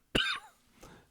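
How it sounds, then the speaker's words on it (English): A single sharp human cough, close and fairly loud, followed by a fainter second cough or throat sound, with quiet moments between. "Sorry that I have coughs."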